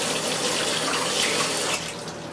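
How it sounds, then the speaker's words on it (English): Tap water runs hard into a sink while hands are washed, a loud, close, steady rush that eases slightly toward the end. "And just gotta wash my hands."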